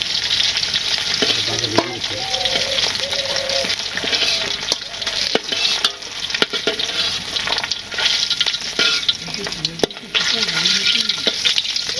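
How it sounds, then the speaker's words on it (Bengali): Two pieces of fish fry loudly in a pan in a village kitchen with a dense, steady sizzle and occasional spatter pops. A few faint voices sit under the frying. "এই দুই পিস একটু কড়া করে ভাজি।"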